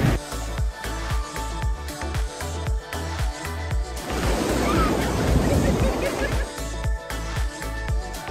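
Ocean waves wash onto the beach at Gokarna in a continuous rushing surf that swells louder midway, mixed with wind and other background noise.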